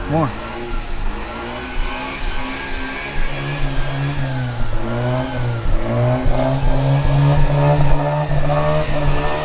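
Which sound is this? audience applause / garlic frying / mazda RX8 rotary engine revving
mazda RX8 rotary engine revving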